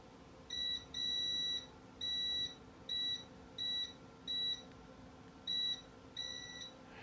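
A multimeter set to continuity gives repeated electronic beeps while wiring on a Kawasaki Vulcan Nomad 1600 motorcycle is tested, about eight steady tones of uneven length with short gaps, clear and close against a quiet room.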